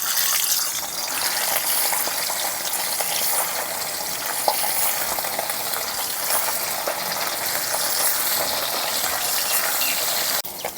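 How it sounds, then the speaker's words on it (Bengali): Piyali fish frying in oil in a wok, a steady, dense sizzle and crackle that holds at an even level throughout, close and alone with no talk. "দিয়ে দিচ্ছি এখন মাছগুলো তেলের মধ্যে।"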